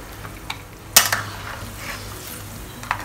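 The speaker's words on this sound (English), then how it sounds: "Stir it around a little bit." Braised pork soft bones are stirred in a pot with dark soy sauce and rock sugar, giving a soft continuous scraping and bubbling with a sharp clatter near the middle and a few lighter knocks.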